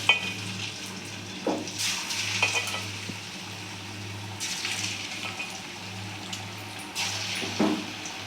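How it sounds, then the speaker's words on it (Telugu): Cabbage pakoda batter dropped spoon by spoon into hot oil for rainy-day fritters, giving a steady close sizzle with bursts of frying crackle, under a constant low hum and a few light clinks of utensils. "ఆయిల్ వేడింది కదండి, ఇప్పుడు కొంచెం కొంచెంగా మనం పిండి ఇందులో వేసుకుందాం."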